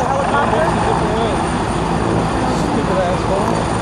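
A steady, loud helicopter drone during a crane rescue in Kingston, Ontario fills the whole stretch, a dense rotor and engine roar with no pauses.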